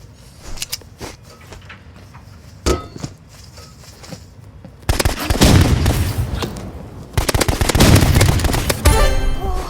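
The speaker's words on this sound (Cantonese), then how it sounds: "我用手槍決鬥好啦。" Pistol gunfire in a Roblox duel, a run of sharp game gunshots that starts sparse and quieter, then turns into loud, dense bursts of rapid shots with heavy booms, with no talk over it.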